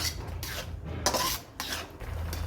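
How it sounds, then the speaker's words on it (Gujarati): Carrot halwa sweetened with jaggery is stirred in a pan, giving a run of scraping, rasping strokes with a few soft metallic scrapes, close and moderately loud with no talking. "અને સતત હલાવતા રહીશું."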